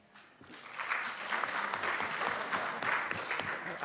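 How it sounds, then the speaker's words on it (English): Audience at a TVET college policy conference claps for a woman being honoured, steady broad applause from a roomful of people, moderately loud and sustained after a brief quiet start. "Can you clap hands for her?"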